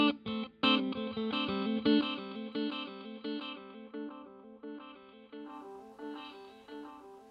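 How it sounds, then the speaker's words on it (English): Electric guitar runs through a delay pedal with reverb, played as picked chord phrases whose echo repeats trail after each note and shift in tone as the delay settings change, steady and fairly loud with no talking. "I'm just trying to let you hear the difference in the tone for the repeats of the echo, the delay portion"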